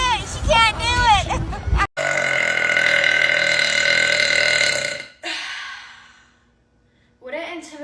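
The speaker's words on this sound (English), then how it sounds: "Would it intimidate you if your girlfriend burped louder than you?" A girl lets out a long, loud burp after gulping down a Sprite, preceded by a short burst of voices and followed by a brief voice at the end.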